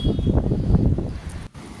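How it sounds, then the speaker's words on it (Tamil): Strong gusts of wind during Cyclone Michaung roar and buffet the microphone in a loud, continuous low rumble, dropping out briefly near the end. "காற்று ரொம்ப அடிக்குது தெரியுதுல்ல உங்களுக்கு"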